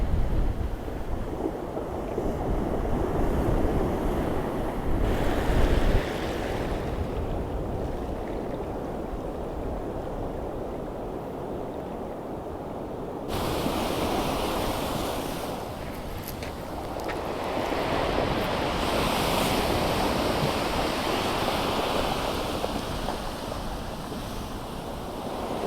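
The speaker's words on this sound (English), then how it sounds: "look at the waves through there" Ocean waves crash on the shore in Scotland, a loud, continuous roar that surges and recedes in slow swells, with heavy wind buffeting the microphone and no voices.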